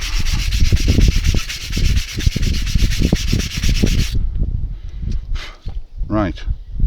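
Brake parts from a 2006 Ford Mondeo Estate TDCi are scrubbed clean, rapid rhythmic rasping strokes up close for about four seconds, followed by scattered scrapes and knocks.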